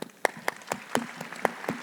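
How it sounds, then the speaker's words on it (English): A live audience claps for a panel at a partnership event, a crowd of hands rising in brief sharp bursts, fairly close and steady, with no voices over it. "Round of applause for our panel."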